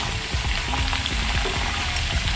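Ivy gourd pieces fry in a pan, giving a steady, dense sizzle with light crackles and soft stirring taps throughout, close and fairly even in loudness.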